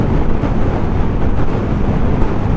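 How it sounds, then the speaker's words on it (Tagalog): Strong wind buffets the microphone in a loud, continuous roar while a Yamaha Mio Sporty scooter is ridden along the Kaybiang Tunnel route. The noise is broadband and steady, with no speech. "Tapos ang lakas pa ng hangin dito."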